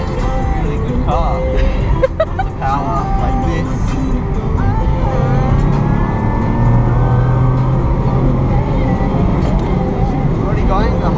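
A car with automatic transmission accelerating hard on a mountain road at around 130 km/h, a loud steady engine drone rising in pitch, heard from inside the cabin with someone talking over it.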